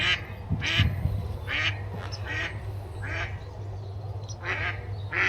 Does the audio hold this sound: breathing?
no